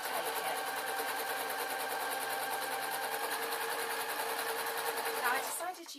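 Sewing machine stitching folded cotton denim from upcycled jeans, a fast steady whirring hum with rapid needle clatter close by, slowing and stopping near the end.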